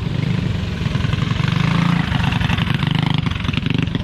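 Mini bike engines racing on a dirt track, with a loud, close, buzzing small-engine drone that pulses rapidly and rises and falls in pitch as the bikes rev.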